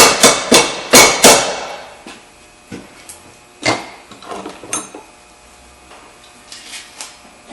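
Close, sharp hammer blows tap a bolt through a Subaru front axle assembly: a quick burst of four loud metallic strikes, then a few lighter, spaced taps trailing off over several seconds.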